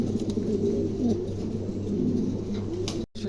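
A pair of Pomeranian pouter pigeons coo softly in a bird keeper's loft, low repeated rolling calls close by with faint chirps and a brief break near the end.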